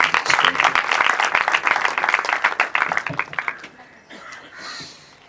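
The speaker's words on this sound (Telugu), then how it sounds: "అయ్యగారు వస్తుండగా మనం అందరం చప్పట్లు కొడుతూ" A church audience claps for an arriving preacher, dense rhythmic clapping that thins and fades out over the last second or two.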